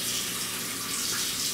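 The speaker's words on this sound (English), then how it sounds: "I'm gonna use this empty seasoning pack to put some water in it" Cold tap water runs steadily into an empty seasoning pack, a continuous close hiss of pouring water with no break.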